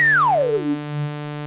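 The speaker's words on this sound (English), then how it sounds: "the original pitch and then the sine wave from the self-oscillation" A self-oscillating Steiner filter on an Arturia MatrixBrute synthesizer: a bright sine tone sweeps smoothly downward in pitch, then settles over a steady low sustained note, clean and alone.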